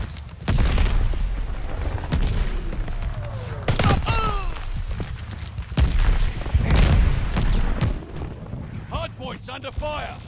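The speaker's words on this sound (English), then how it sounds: "Allies calling a mortar barrage." A mortar barrage in Call of Duty Vanguard multiplayer: a string of loud, booming explosions with heavy low rumble and debris crackle, running continuously over a dense battlefield mix with game voices and other effects.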